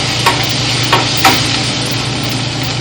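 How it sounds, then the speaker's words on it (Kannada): Ginger garlic paste frying with onions in a pan for a restaurant-style mushroom masala, a loud, steady close sizzle with a few sharp stirring clinks. "ಪೇಸ್ಟ್ ಹಾಕಾದ್ಮೇಲೆ ಆ ಹಸಿ ಸ್ಮೆಲ್ ಹೋಗೋ ತನಕ ಚೆನ್ನಾಗಿ ಫ್ರೈ ಮಾಡಿ"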